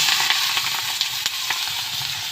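Potato, eggplant and chilli fry in hot oil in a wok for a small-fish chorchori, a steady close sizzle with a few sharp crackles and pops and no talking.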